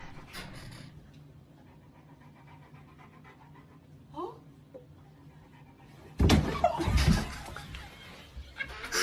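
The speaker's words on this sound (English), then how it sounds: "And here's a dog. It's a classic." Quiet room tone, then a loud burst of heavy, rapid dog panting and snuffling close by near the end.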